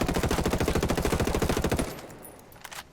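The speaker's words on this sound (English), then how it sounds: "Now let's see how the TAR-21 fares. Aim down sight. Fire." A TAR-21 assault rifle fires in Ghost Recon Wildlands: a rapid, steady burst of close, loud automatic shots lasting under two seconds, then stopping abruptly with a faint echoing tail.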